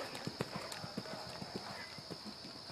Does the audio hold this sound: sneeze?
no